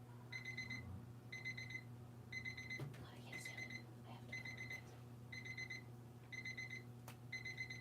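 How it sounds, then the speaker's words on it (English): A timer alarm beeps in short repeated bursts of rapid electronic pips, evenly spaced about once a second, fairly faint over a steady low hum, with no talking. "I actually feel like that's a timer"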